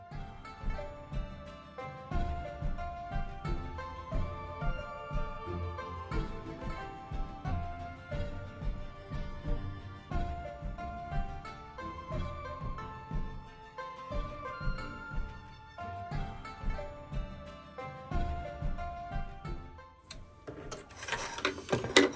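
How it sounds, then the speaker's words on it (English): A sewing machine stitches fabric scraps with a quarter-inch seam, a steady close mechanical whirring chatter in repeated runs with brief pauses, ending in a sharper burst near the end. "We're going to sew this."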